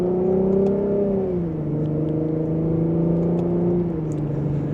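A 2025 Lexus IS350 in sport mode accelerates in second gear to about 3,000 rpm, its engine note loud and steady from inside the cabin, with pitch climbing then easing through the pull.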